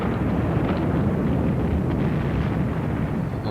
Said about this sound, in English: That controlled explosion.